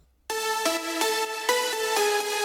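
Rich progressive house synth leads in FL Studio, played in sustained chords that change every half second or so. A large reverb sits on the leads, and the sound is steady and full with no voices.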